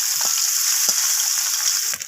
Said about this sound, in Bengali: মৌরলা মাছগুলোকে একটু ভেজে নেব কড়া করে